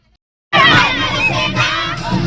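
A crowd of students shouts inside a picnic bus headed for Pujali. After a half-second of silence, a loud, continuous wall of overlapping voices and yells breaks in and holds steady to the end.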